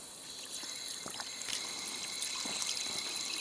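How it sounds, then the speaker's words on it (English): A high-pressure water fountain on a Kaibab Trail hiking route in the Grand Canyon shoots water about 20 feet into the air, making a steady, close rushing hiss with a few splashy bursts throughout. "That is literally the craziest water fountain I've ever seen."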